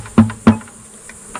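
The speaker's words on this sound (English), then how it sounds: "I've got a nice bucket full of bees." Honey bees crowded in a clear bucket during a sugar roll varroa mite check give off a low, steady buzz, broken by two brief louder bumps near the start and a softer one at the end.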